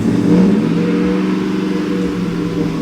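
A V8 truck engine, just after its cam sensor wires were swapped, runs at a steady high idle with a loud, even mechanical drone.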